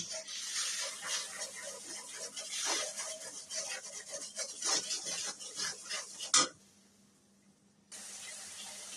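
Spice paste for singhi fish curry with mixed vegetables gets stirred and sautéed in a pan, scraping and sizzling in irregular strokes that stop abruptly, leaving near quiet before a soft hiss returns.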